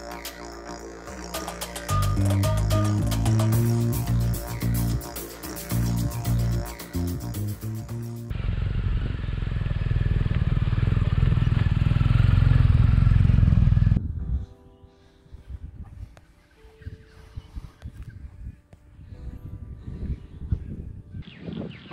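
A BMW R motorcycle being ridden, with a steady engine drone and rushing wind noise through the middle stretch, preceded and followed by clattering, rhythmic mechanical sounds.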